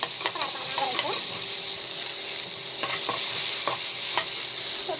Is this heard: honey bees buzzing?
no